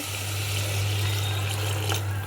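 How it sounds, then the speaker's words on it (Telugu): Water poured into a pan of prawn and broad bean tomato curry, a steady near gushing flow with a low hum underneath, continuous and unbroken. "ఇప్పుడు వాటర్ వేసుకుందామండి"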